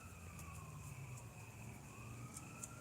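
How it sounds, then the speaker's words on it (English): A distant ambulance siren wails faintly and steadily, its rising and falling tone drifting over a constant low rumble of background traffic. "Actually, that one might be an ambulance."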